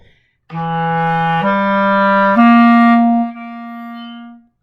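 A second clarinet plays a short phrase of sustained notes, stepping upward through three pitches, then holding a final softer tone; solo and close.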